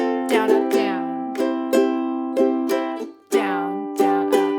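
A ukulele strummed in a down-up pattern, with bright, close chord strokes that come in a steady, repeating rhythm and play alone without talk.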